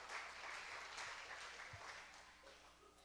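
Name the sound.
applause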